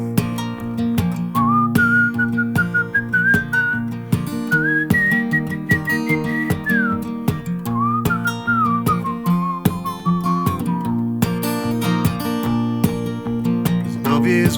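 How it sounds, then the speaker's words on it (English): A whistled melody rises and falls over an accompanying song with steady instrumental backing, the whistling clear and prominent for the whole stretch. "Whistle along."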